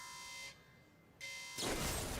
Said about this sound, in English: The alarm has gone off.